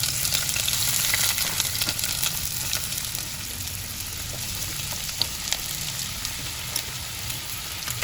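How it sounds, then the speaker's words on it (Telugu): Onions frying in hot oil in a pan while cooking chicken dum biryani, a steady close crackling sizzle that runs throughout, loudest at the start and then settling slightly. "ఇది బాగా వేడెక్కాక మనం ఆనియన్స్ వేసుకుందాం."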